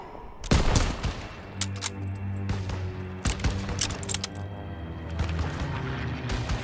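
Suppressive gunfire in the World War II shooter Call of Duty: WWII, with repeated rifle and machine-gun bursts and distant booms over a low rumbling battlefield bed.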